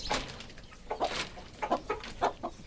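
Aseel chickens in a cage give soft, scattered clucks while grain is scattered for them, several short calls spaced through the moment at a fairly quiet level, with no talking.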